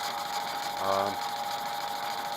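A lathe cuts the inside of a hub flange. A steady machine hum runs throughout, with a short tonal whine swelling and fading midway.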